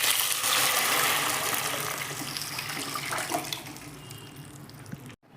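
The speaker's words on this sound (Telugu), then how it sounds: "మనం ముందుగా తయారు చేసి పెట్టుకున్న పప్పు పులుసుని దీంట్లో పోసుకోవాలి" Prepared dal stew, Nellore-style pappu pulusu, poured into a pan of fried dry chillies, a loud steady gushing pour that slowly tapers over several seconds, close up, with no speech.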